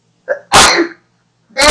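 A single loud sneeze bursts out after a short sharp intake of breath, close to the mic, with the start of another loud burst at the very end.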